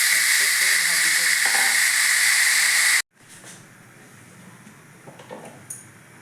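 Hot oil sizzles in a pan in a village kitchen, a loud steady hiss that cuts off abruptly midway, leaving a much quieter background with faint clatter.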